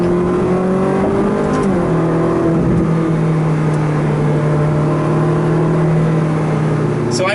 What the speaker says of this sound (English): I like how you barely have to press to get the exhaust valves to open.